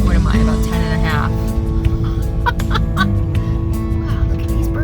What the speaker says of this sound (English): Wow, look at these birds.